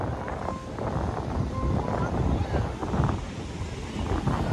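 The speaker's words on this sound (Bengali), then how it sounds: "জোয়ার চলতেছে কি বড় বড় ঢেউ" Big sea waves roll in at high tide on the beach at Inani, Cox's Bazar, a steady roaring wash of surf mixed with wind buffeting the microphone, with people talking nearby.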